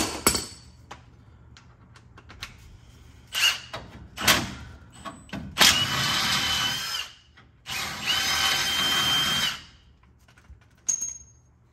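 Impact-style power tool loosening a wheel bolt on a 1988 Ford Ranger, with several short buzzing bursts followed by two longer sustained runs, close and loud against a quiet garage background with light clanks.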